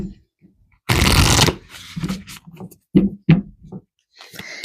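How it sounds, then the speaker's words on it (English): Tarot cards being shuffled in a long, loud riffling burst up close, followed by softer taps, slides and snaps as individual cards are pulled and laid down. "Let's pull some more cards here."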